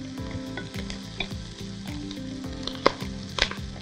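Rice, onion and spices such as dried lime, cardamom, cinnamon and bay leaf sauté in olive oil, making a close, steady sizzle with rhythmic scraping stirs and a few sharp pops.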